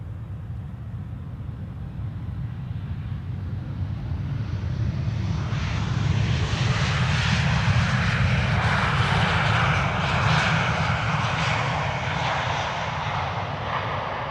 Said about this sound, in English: Transavia A321neo arriving from Malaga is going to be next here at the Polderbaan.